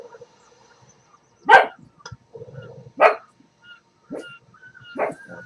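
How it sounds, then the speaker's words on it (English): A dog barks in several separate sharp bursts spaced about a second apart, fairly close, with quiet gaps and faint low background sound between them. "That's my dog barking."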